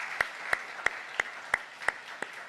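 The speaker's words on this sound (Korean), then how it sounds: "우리 하나님께 감사의 박수를 드릴까요?" A church congregation clapping in thanksgiving during a sermon, heard as about seven evenly spaced, sharp unison claps in a slow steady rhythm, moderately loud with a quiet room between beats.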